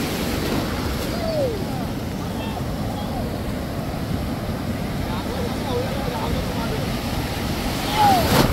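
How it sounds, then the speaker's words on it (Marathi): Big sea waves rolling in at Malvan beach on the Konkan coast, a continuous roar of surf with wind rumble, while people shout and chatter close by. "लाटा बघा ना किती मोठ्या येतात।"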